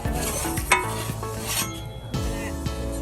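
Pizza cooking over low heat on a Blackstone griddle, a soft sizzle with light scraping and a few metallic taps from a spatula, fairly quiet and close.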